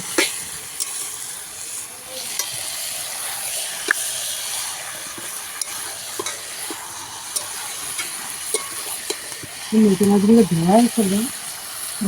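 Meat cooking in a pan over an outdoor wood-fired clay stove in a home garden, a steady soft sizzle and hiss with occasional stirring clicks, with a person's voice breaking in near the end.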